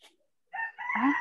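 A chicken gives a short, clear, tonal crow after a moment of near silence, the call rising in two close bursts and fairly loud against a quiet background.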